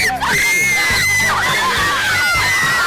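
People screaming and shrieking at a haunted scare attraction, loud overlapping high-pitched screams from several voices, continuous and close throughout.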